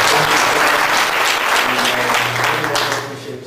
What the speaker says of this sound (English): Let's give a big applause to the chair of the session.